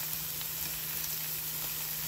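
Beef seasoned only with salt sizzles in a pan, a steady close hiss of frying with a constant tone underneath, no voices.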